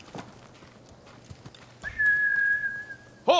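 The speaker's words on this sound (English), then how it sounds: "Horse!" In the video game Ghost of Tsushima, a horse's hooves clip-clop softly, then a long sustained whistle sounds, followed at the end by a sharp, loud horse whinny.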